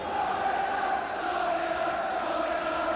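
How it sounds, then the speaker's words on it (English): A Swansea football crowd at a Division Two match against Chelsea chants together in a loud, sustained, distant roar of massed voices that fills the stadium without a break. "the Swansea crowd begin to sing "We're going up,""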